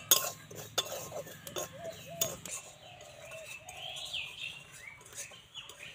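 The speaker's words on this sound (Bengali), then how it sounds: "সুজি যে আছে এটা কিন্তু শুকনো খোলায় 5 মিনিটের মতো ভাজতে লাগবে" Semolina is dry-roasted in a wok with a utensil, giving faint intermittent scrapes and clinks against the metal, with occasional bird chirps in the background.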